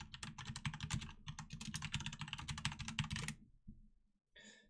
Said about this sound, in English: we'll go to type in advanced Twitter search